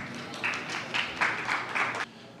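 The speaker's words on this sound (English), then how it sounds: "Give them a big round of applause." Audience applause for Kevin and Christian of Lightspark as they come up on stage at a tech presentation. It is a moderate, steady burst of clapping that lasts about a second and a half, then cuts off.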